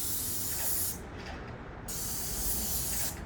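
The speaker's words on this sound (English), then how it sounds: "Man, spraying is definitely the way to go." A contractor compact paint sprayer hisses steadily as it coats a downstairs room, a loud continuous spray broken by one brief pause midway.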